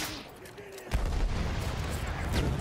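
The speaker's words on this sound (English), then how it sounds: "Machine gun! Hostile!" Gunfire from a video game battle erupts as a sudden loud burst of machine-gun fire that keeps rattling on, dense and close after a quieter opening.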